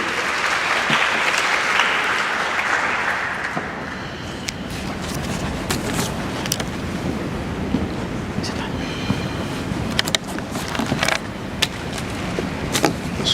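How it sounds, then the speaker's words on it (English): Audience applause at the Two Oceans Graduation Institute graduation ceremony, a steady wash of clapping from a large crowd that fades into a softer patter with a few distinct claps. "Please give him a round of applause."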